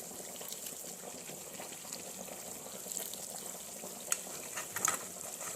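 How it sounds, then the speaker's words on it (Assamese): Homemade ghee simmers in a wok while it is stirred now and then, a faint, steady soft bubbling and frothing with a few sharper pops near the end, and no one speaking. "ঘিখিনি মোৰ হৈ আহিছে।"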